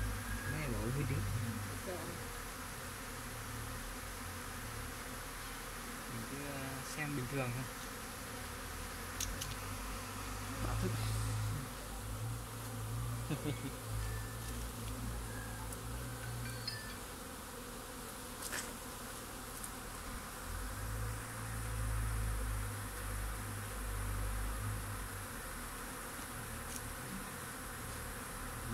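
Honey bees buzz steadily around improved tiered beehive boxes at an apiary, a dense continuous hum close by with low background noise, while people talk briefly now and then.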